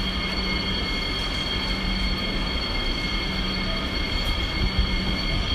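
Trains rumble through Gare de l'Est station in Paris at rush hour, a steady loud rolling roar with faint wheel squeal and high tonal whine, close by and without voices.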